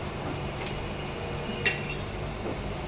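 A spoon makes a single light clink against a glass or pot while sugar is added to milk, with low background hum and no talk.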